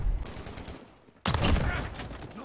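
In the video game Modern Warfare, an R9-0 shotgun blast cracks loudly after a quieter stretch of battle noise, followed by a sustained burst of gunfire.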